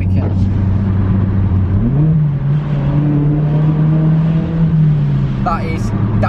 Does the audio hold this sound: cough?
no